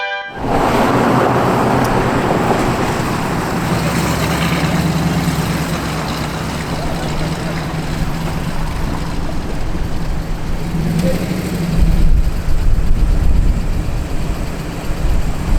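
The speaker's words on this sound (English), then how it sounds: "It really is a treat to get to drive a Tiger" A Sunbeam Tiger sports car engine runs steadily with a low, continuous rumble, the tone rising slightly toward the end, heard from inside the car with the window down.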